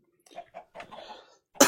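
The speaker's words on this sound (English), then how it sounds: "Sorry about the coughing." Coughing from someone with an upper respiratory infection: soft throat-clearing coughs build briefly, then one loud, harsh cough bursts out close to the mic at the end.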